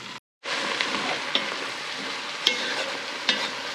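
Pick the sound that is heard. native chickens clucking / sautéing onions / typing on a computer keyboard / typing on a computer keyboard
sautéing onions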